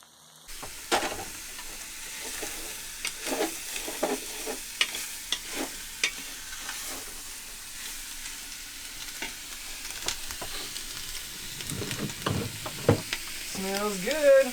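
An Italian sausage and lentil stew with fresh market produce sizzles steadily in a pan on a sailboat's stove. A spoon scrapes and taps through it in irregular strokes, with a faint voice near the end.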